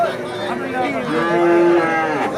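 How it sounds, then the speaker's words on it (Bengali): A Friesian heifer calf lets out a single long, loud moo, close by, with no talking over it, at a cattle market. "ফিজিয়ান জাতের বাছুর"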